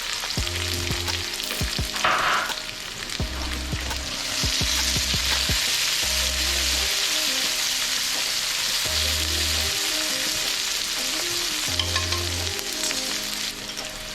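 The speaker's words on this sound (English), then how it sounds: "We'll start frying off the carrots. Carrots and a couple of onions." Carrots and onions fry in a pan with a steady close sizzle, broken by several low thumping bursts of stirring or pan movement throughout.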